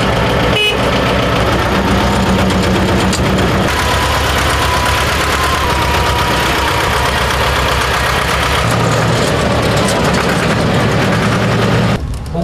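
A tractor engine runs loud and close at an agricultural exhibition, a steady rumbling idle with a rough, knocking character and a short high tone near the start, continuing without pause and with no talk.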